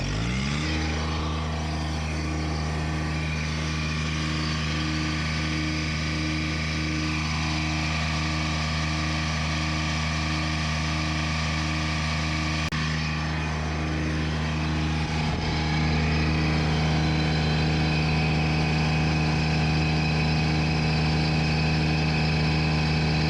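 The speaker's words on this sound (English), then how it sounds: "Let's see what happens when we kick the throttle up." A Kubota ZD1211 diesel zero-turn mower engine with an overheating fault runs loud and close as the throttle is raised, a steady diesel drone climbing in pitch and holding at higher revs, with no talk.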